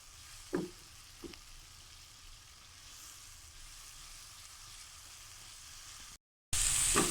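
Spices with cumin fry gently in a pan for a mixed vegetable sabzi, a faint, steady sizzle with a couple of soft stirring clinks, then a brief gap and a louder burst of sizzling.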